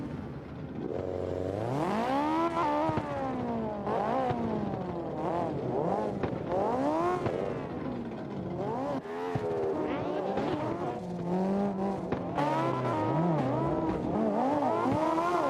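Cars drift in tandem at a gymkhana event, engines revving and rising and falling in pitch over sustained tire squeal, loud and continuous with overlapping passes throughout.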